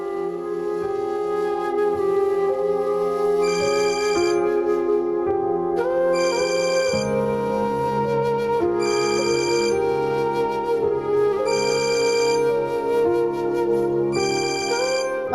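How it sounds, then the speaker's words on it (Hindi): A phone rings indoors with a bright, melodic electronic ringtone that repeats its tune steadily and loudly for the whole stretch, with no voices over it. "बाजी, आपका फोन बज रहा है।"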